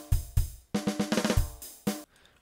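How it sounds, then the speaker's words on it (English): A quick programmed drum fill of sharp snare hits, a few spaced strikes, then a rapid run of rolls and flams, ending on one accent. "that's going to be a fill directly on the snare"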